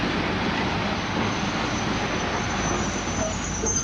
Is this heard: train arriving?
yes